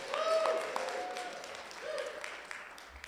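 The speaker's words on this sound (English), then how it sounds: "Let's also give a round of applause for our timer." Audience applause for the timer at a candidate forum, a moderate wash of clapping across the hall with some voices mixed in, fading slightly toward the end.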